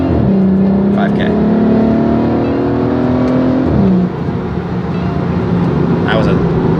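A VW Passat with an aftermarket exhaust pulls hard in first gear to about 5000 rpm, a loud droning engine note rising in pitch, dipping at a shift, then climbing again, with a voice talking over it.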